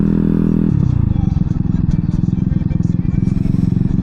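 Motorcycle engine running loud and close on the throttle, a low steady thrum that shifts into a rapid pulsing beat as the revs change, with rattling and wind buffeting throughout.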